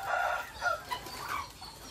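Dekalb White laying hens inside a layer farm building cluck and call in a steady overlapping chorus, several birds close by with a few louder squawks rising above the flock.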